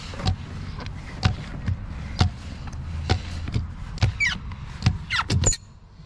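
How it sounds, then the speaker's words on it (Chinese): Squeegee wiped over the wet windshield of a tall car, giving several sharp, close squeaks and scraping strokes at uneven intervals, with a few faint voices in the background. "这个嘎吱的声音听起来好难受啊！"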